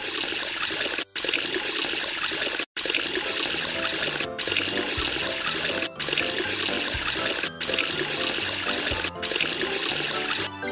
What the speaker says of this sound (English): Wash Tutu with water.